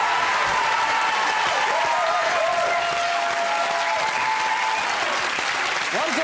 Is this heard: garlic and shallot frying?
no